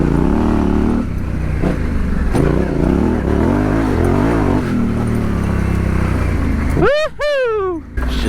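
A Yamaha Tenere 700 adventure motorcycle rides off-road along single track, its engine droning steadily up close under wind rush, then climbing in a few sharp rising revs near the end.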